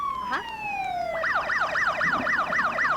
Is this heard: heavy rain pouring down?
no